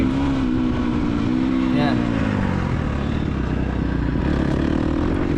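An off-road dirt motorcycle engine drones steadily up close, its pitch rising and falling as the rider works the throttle and brakes on a trail exit, with a brief spoken word over it.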